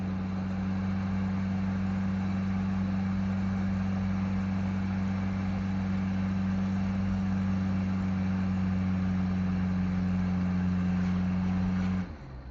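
A 1992 turbo diesel engine runs steadily at idle with a low, even drone that holds for about twelve seconds before cutting off abruptly near the end.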